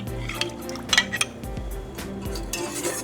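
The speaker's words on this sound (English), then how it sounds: "Okay, so we're gonna stir it up." A spoon stirs a thickening mixture in a pot, with close metallic clinks and scrapes against the sides arriving in irregular bursts over a low kitchen hum.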